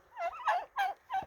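A turkey gobbles in a farmyard, three or four quick warbling bursts close to the microphone, loud and clear with no talk over them.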